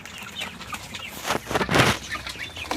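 Farm chickens cluck close by in a coop, with a loud burst of wing flapping midway through a short stretch of fowl noise.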